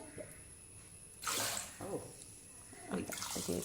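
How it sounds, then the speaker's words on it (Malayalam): A little water is poured into a curry pot, two short splashing pours about two seconds apart, quiet and close, with faint speech between them. "ഇത്തിരി വെള്ളം."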